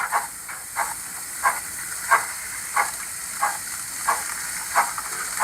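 Rhythmic steam chuffs from a Zimo sound decoder in a Dapol Hawthorn Leslie 0-4-0ST model locomotive, about eight regular hissing bursts over a continuous faint steam hiss.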